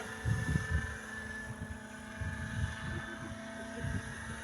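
An electric Jet Ranger RC model helicopter with Hirobo Shuttle mechanics, flying at Tumana Airfield, gives off a steady whine over soft, rhythmic low rotor thumps, with light wind buffeting on the microphone.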